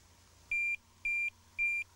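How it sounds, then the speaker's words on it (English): Three evenly spaced electronic bleeps from a Tx-i Plus buzzer, each about a quarter second long, sounding clearly over a quiet low hum. "Get the normal bleeps."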